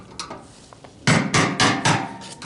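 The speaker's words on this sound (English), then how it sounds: "I got my ball peen hammer, not the claw hammer" Ball peen hammer striking metal during fuel tank and fuel pump replacement on a 1992 GMC Sierra 1500 4X4 truck, a few faint taps followed by four loud, sharp blows in a quick rhythm, close by.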